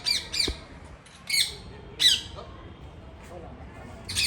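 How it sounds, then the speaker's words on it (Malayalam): A native parrot at Trivandrum Zoo gives several sharp, shrill squawks in short bursts spaced about half a second to a second apart, fairly close over quiet background. "നമ്മളെ നാടൻ തത്ത."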